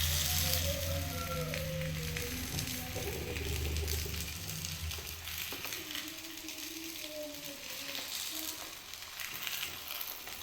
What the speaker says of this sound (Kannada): ಈಗ ಹೆಂಚು ಬಿಸಿಯಾಗಿದೆ. ಈಗ ಅದರೊಳಗಡೆ ಹಾಕಿ ಸುಡ್ತಾಯಿದ್ದೀನಿ.